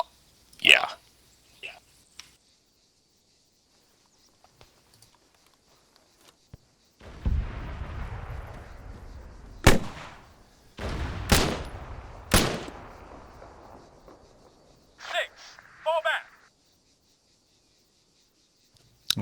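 Gunfire in Arma 3: a cluster of sharp, loud rifle cracks around the middle, several single shots in quick succession over a rumbling background, with quieter stretches and brief voice chatter near the start and end.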